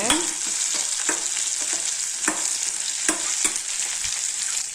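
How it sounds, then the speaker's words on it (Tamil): Curry leaves and onion sautéing in an oil-filled pan for hotel-style tomato chutney, a steady close sizzle with repeated sharp scrapes and clinks of a spoon stirring against the pan, no voices. "இப்போ கறிவேப்பிலை போட்டுக்கலாங்க. இது நல்லா வதக்கிக்கலாங்க."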